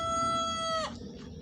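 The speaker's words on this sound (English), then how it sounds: "before I feed all of these crazy birds" A rooster crows once in a backyard garden flock, a long sustained call that cuts off abruptly, followed by low clucking and rustling from the chickens.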